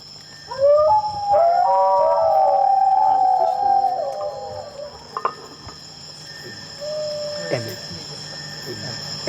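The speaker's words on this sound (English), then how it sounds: "The answer is faint, far up the ridge, but these guys recognize it as the sound of wild dogs." Wild singing dogs howl faintly from far up a ridge, with thin wavering, gliding cries drifting in and out over a steady hiss of insects and low outdoor noise, followed by scattered soft knocks and rustles.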